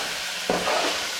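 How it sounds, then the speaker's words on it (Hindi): Chicken frying in a pot for biryani, a steady soft sizzle with a brief stirring scrape partway through, close and fairly quiet. "इसको अच्छी तरह हम फ्राई कर लेंगे"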